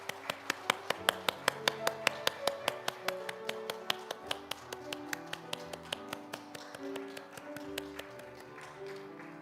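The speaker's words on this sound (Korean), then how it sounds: "하나님께 영광의 박수 올려드리겠습니다." A church congregation claps in a steady, even rhythm of sharp, distinct hand claps over organ or choir tones during a Sunday service.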